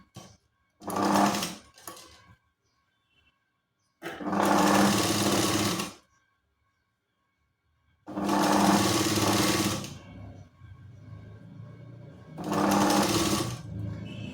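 A sewing machine stitches the side strip of a katori blouse in four separate loud bursts of about one to two seconds each, with quiet gaps between them and no talking.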